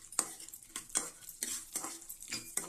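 Chopped almonds, cashews and pistachios frying in melted ghee, a quiet sizzle broken by a rhythmic series of spoon scrapes and stirs against the pan, close up with no talking.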